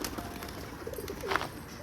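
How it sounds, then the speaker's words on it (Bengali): Pigeons coo softly in a loft while pecking at corn, low murmuring calls with one brief clearer coo near the end, over light background noise. "সব পায়রাগুলো ভুট্টা খাবে"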